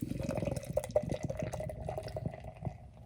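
Triple IPA glugs and splashes steadily into a glass for a few seconds, a continuous close pour with bubbling.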